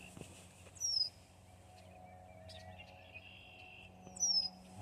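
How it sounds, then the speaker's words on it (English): Two short, high chirping bird calls a few seconds apart over a quiet outdoor hum in a restored prairie, faint and somewhat distant. "Hear all the birds around kind of annoyed with me."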